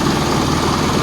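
An engine that had died is running again after a restart, with a loud, close, steady idling rumble and an even low throb.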